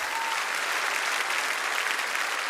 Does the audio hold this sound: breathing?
no